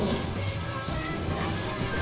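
A crunching smash lands on a shadow creature in the video game Don't Starve Together, a sharp impact heard amid game sounds with a faint voice in the background.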